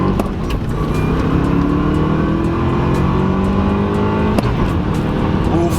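A Subaru WRX on 14 pounds of boost pulls hard in first gear, its engine note climbing loudly and continuously from close inside the car without a break.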